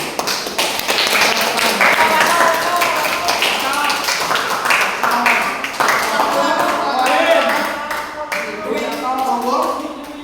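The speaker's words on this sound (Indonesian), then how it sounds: "Tepuk tangan untuk kelompok 6" Steady applause from a group of students in a school classroom, many hands clapping continuously for about ten seconds with light murmuring voices mixed in.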